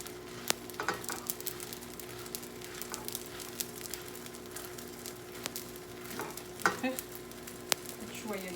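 Msemen flatbread fries in oil over a fire with a steady close sizzle, plus occasional light scraping and tapping as the dough is turned.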